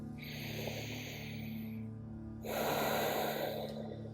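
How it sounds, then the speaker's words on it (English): Deep, slow breaths drawn together by a group during a guided prayer, a soft breathy inhale then a louder, fuller exhale, with a steady low hum underneath and no talking. "let's go ahead and take a couple of deep breaths together"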